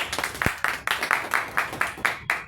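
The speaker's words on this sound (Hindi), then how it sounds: "एक बार जोरदार ताली" A crowd at a Delhi land-plot sales meeting gives a short burst of applause: about a dozen sharp, fairly even claps in a quick rhythm, close and clear, with no talking over them.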